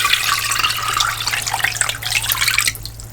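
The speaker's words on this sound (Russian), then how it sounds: "Заливаем банки водой так, чтобы покрыло." Tap water pouring into a pot holding glass jars of home-canned pork wrapped in a towel, a steady close rushing splash that shifts in tone near the end as the stream changes.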